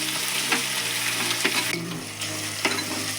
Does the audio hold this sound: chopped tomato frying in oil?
yes